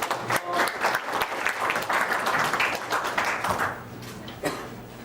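An audience at a Bank of Korea anniversary seminar in Gangwon applauds to welcome a National Assembly member, a dense, steady roll of many hands clapping that thins out near the end.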